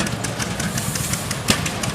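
An antique tractor at an outdoor tractor show runs with a steady, rough, chugging engine drone and a knocking pulse, one sharper thump cutting through near the end.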